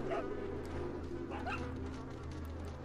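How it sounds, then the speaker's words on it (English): Dog whimpers and short yips in Resident Evil 4, a few high whining cries rising over a steady, rumbling game ambience. "Bad doggy."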